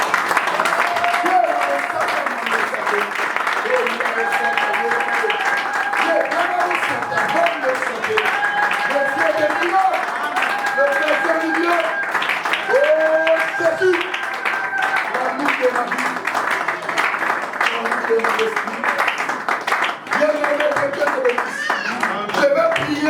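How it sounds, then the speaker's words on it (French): A church congregation claps and cheers in praise, sustained applause mixed with many voices calling and singing out together, loud and continuous throughout. "On acclame le Seigneur Jésus."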